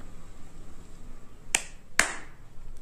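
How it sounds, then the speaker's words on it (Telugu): Two sharp hand claps a half second apart trigger a homemade clap switch circuit, crisp and close against a quiet hiss, with no talking. "సో ఇప్పుడు క్లాప్ చేస్తున్నాను అనమాట"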